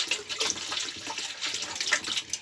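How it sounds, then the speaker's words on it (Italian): Water pours from a clean spouted jug into a sulfated lead-acid battery, a steady, light splashing and trickling stream heard up close with no voices. "adesso metto l'acqua, mi premunisco di una caraffa che c'ha l'imbucatura per vuotare"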